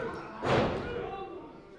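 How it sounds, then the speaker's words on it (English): A wrestler crashes onto the ring mat from a sidewalk slam in a championship match, one heavy broadband thud at mid-clip over steady crowd noise and commentary. "Sidewalk slam by Atlas."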